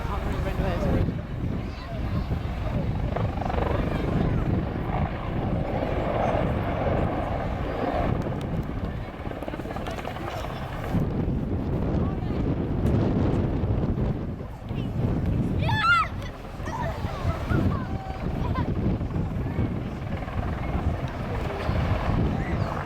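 An Apache attack helicopter at an air display performing a quick stop into a hover, a loud steady rotor and engine roar with wind buffeting, and a voice talking over it throughout.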